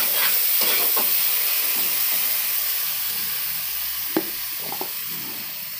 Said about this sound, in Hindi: थोड़ा फ्राई कीजिएगा जब तक थोड़ा सा तेल छोड़ दे।